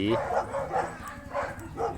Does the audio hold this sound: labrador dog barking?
yes